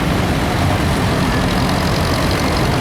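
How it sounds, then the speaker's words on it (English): A small Kubota tractor idles at an autumn agricultural show arena parade, a steady broadband engine rumble with constant noisy texture and no speech. "This is a lovely little Kubota tractor."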